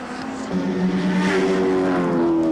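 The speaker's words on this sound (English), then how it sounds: "And the puffing and huffing from this car continues." A touring car from the 1990 Australian Touring Car Championship, running about 12 seconds behind Peter Brock, drones loudly past with a rough, sputtering engine note, steady and close, with no talking.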